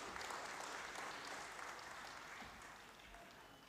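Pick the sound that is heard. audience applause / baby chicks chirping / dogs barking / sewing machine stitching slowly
audience applause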